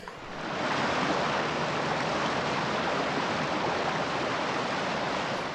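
Waterfall in a film scene, a steady, full broadband roar of falling water that swells in and holds evenly, with no voices over it.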